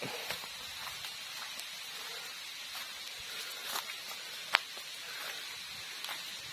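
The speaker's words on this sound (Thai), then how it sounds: "โอ้ฝนกลับมา" Rain patters steadily on a rubber plantation during mushroom foraging, a faint, even hiss of drops with a few sharper ticks scattered through and no talking.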